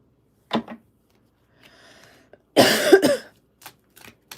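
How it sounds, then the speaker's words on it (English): A short cough from a congested person is followed by a heavier, louder double cough nearby, with a few quiet clicks and rustles afterward. "I'm sorry if I cough a lot."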